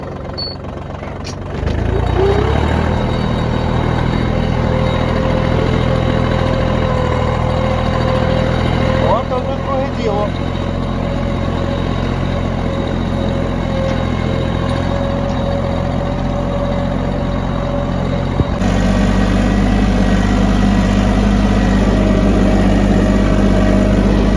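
A Japanese mini tractor engine runs steadily while plowing, a loud, continuous mid-to-low drone close by that starts after a moment of quiet, with a voice talking over it at times.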